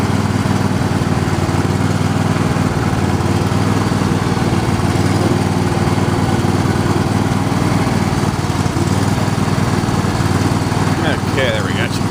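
A John Deere LA120 riding lawn mower engine runs steadily and loudly nearby for the whole stretch, with a constant low drone and wind noise over it.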